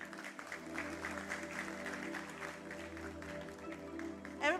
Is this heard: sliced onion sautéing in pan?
no